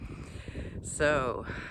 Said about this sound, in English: Crows chiming in